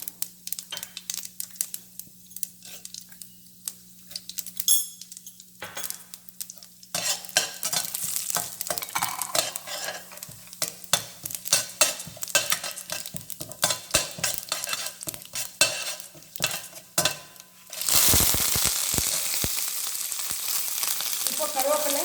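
Chana dal fries in hot oil with a crackling sizzle while a utensil stirs and scrapes the pan, the frying growing louder and busier toward the end.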